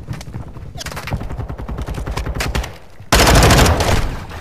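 Video game gunfire rattles in rapid bursts of shots, growing denser and louder toward the end, with no talk over it.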